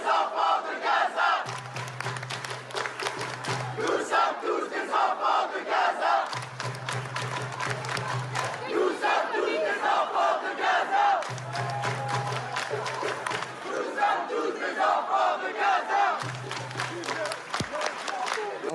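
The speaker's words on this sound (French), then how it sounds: "des sympathisants de Bali Bagayoko qui vont applaudir en disant « Nous sommes tous les enfants de Gaza »" Supporters in a town hall in Saint-Denis clapping in rhythm and chanting a slogan in unison, a loud crowd with repeated chant phrases over sustained applause.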